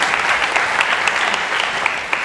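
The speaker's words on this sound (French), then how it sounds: "Est-ce qu'on peut applaudir pour les femmes burkinabées quand même?" A comedy show audience breaks into steady, fairly loud applause for Burkinabe women, dense clapping with individual hand claps standing out, continuing evenly throughout.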